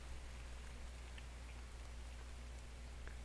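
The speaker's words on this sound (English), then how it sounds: "here comes the rain" Rain in the survival video game The Infected, a faint, even hiss of falling drops with occasional soft ticks, steady throughout and with no talking.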